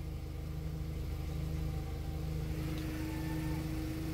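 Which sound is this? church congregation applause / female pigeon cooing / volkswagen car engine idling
volkswagen car engine idling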